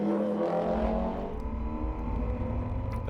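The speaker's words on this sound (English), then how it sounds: "Here's the VDW BMW again, taking the inside line at Lassour's hairpin." A VDW BMW race car in the 25 Hours Fun Cup endurance race takes the inside line through Lassour's hairpin, its engine roaring loud and close with a steady, droning revving note that eases slightly as it goes.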